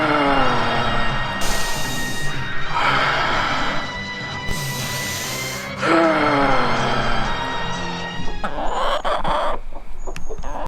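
A voice imitates Jonathan Chase's hyper-breathing from the 1980s series Manimal: repeated loud, forceful, rasping breaths in bursts over a dense layer of other sound, close and intense.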